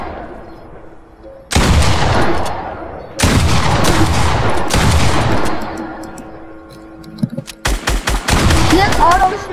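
Automatic gunfire in the video game Fortnite, loud bursts of rapid shots in three main volleys with a quieter stretch between, ending in a string of sharp separate shots, with voices talking underneath.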